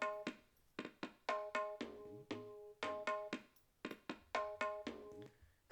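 A tabla plays a six-beat dadra tal, crisp ringing strokes with tuned resonant tones and deeper bass hits falling in a steady repeating cycle, close and clear with no voices.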